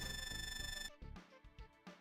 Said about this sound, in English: Ah, just then your cell phone rings.